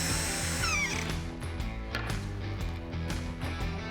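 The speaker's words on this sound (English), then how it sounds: "it's time to countersink and drill a screw in to hold everything in place" A power drill whirs in short bursts as a screw is driven into the wooden base of a DIY Christmas tree, close and loud, with a pulsing motor tone and no speech.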